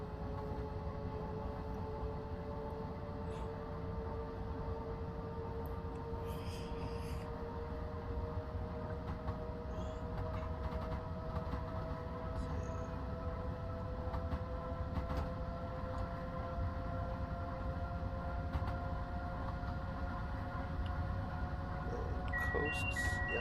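An Alco FA diesel locomotive in the Train Simulator game, running steadily with a droning engine and rising tonal whine, a constant even rumble with no talk.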